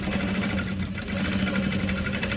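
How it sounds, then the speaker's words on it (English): Sewing machine top stitching a fabric bag through all layers near the top edge, a loud steady mechanical hum and rapid needle chatter running continuously up close. "as we top stitch. About 1/8 of an inch from that top edge through everything."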